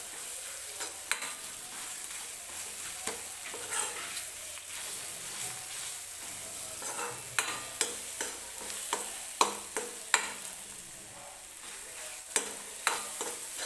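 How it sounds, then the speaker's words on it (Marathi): Masala paste with garlic frying in oil for a dhaba-style egg curry, a steady close sizzle under repeated stirring scrapes and occasional sharp taps of the spoon against the pan, with no voices. "आता हा मसालासुद्धा व्यवस्थित आपल्याला तेलामध्ये भाजून घ्यायचा आहे"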